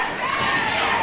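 Dense, steady roar of a live wrestling crowd cheering at a New South Wrestling event, loud and continuous throughout with no break.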